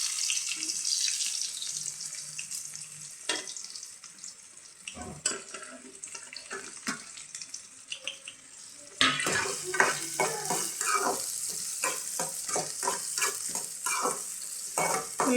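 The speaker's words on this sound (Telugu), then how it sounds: "ఉల్లిపాయలు కొంచెం దోరగా ఫ్రై అయ్యేంత వరకు ఫ్రై చేసుకున్నాం" Onions and green chillies frying in a pan after mustard seeds, with a steady sizzle, clinks and stirring scrapes that turn louder and busier midway, along with running-water noise.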